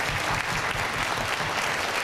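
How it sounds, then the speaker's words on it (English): Audience at a tribute concert for DJ Porky Chedwick gives a dense, steady round of applause, loud and continuous with no talk over it. "Give him another round of applause, please."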